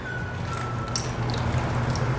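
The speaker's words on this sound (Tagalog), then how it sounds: "lagyan natin ng water" Water goes into a pan of hotdogs cooking on the stove, a brief steady sizzle and trickle close by, with no talk.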